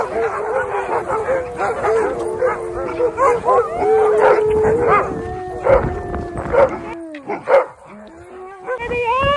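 Sled dogs in Alaska howl, yip and bark excitedly as the team starts out, a loud chorus of overlapping wavering howls and sharp barks close by.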